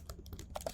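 Code being typed on a computer keyboard, a few quiet, irregular key clicks in quick succession with no voices.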